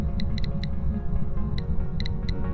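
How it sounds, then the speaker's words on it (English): A Tier 1 EMF reader in the Phasmophobia video game reads level 2 to 4 with short, high electronic beeps at irregular intervals. The beeps sit over a steady low rumbling hum and there is no speech. "2 through 4, which looks and sounds like this"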